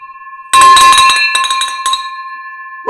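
A bell rings out loudly to celebrate a closed real estate deal, a bright sustained metallic tone struck repeatedly for about a second and a half, then ringing on and fading, with a new sound starting at the very end.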